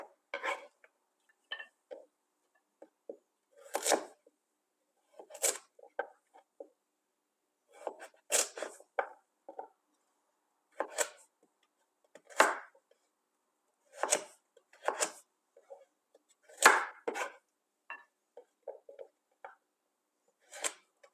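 A knife chops carrots into long strips on a cutting board, with sharp separate knocks that come in small clusters with quiet gaps between them, close and clear, and no talking.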